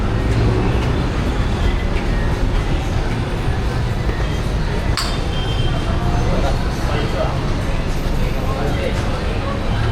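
A continuous loud rumble of an LRT light rail train in motion in Manila, with a steady rolling drone and faint voices underneath.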